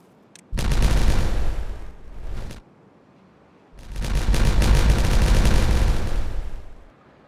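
Explosives detonate in the beaver city-builder Timberborn, two loud sustained blasts of crackling rumble, the first lasting about two seconds with a short tail, the second longer and equally heavy, close and dominant.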